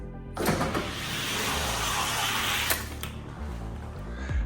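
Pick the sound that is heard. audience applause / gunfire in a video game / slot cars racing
slot cars racing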